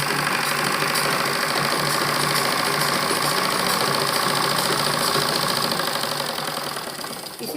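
A sewing machine running continuously while stitching a child's baby frock, a dense steady mechanical whir and rapid needle chatter held close, easing off near the end, with no talk.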